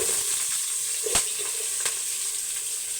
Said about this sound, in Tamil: வெங்காயம் ஒரு பக்கம் வதங்கட்டும்